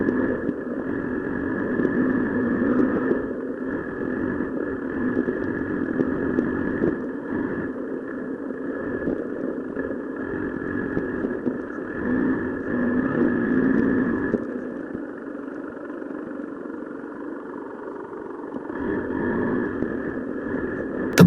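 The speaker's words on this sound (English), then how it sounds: "The bike pushes forward, climbing over rocks and ruts" A motorbike climbs a rocky, rutted mountain trail through misty hills near Madikeri in Coorg. Its engine hums in a steady drone that rises and eases slightly as it works over the rough ground.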